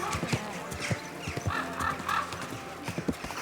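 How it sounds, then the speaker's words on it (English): Hooves of a horse in Kingdom Come: Deliverance II clip-clop in an uneven rhythm at close range, with soft background murmur and a brief snort. "Watch out for that horse"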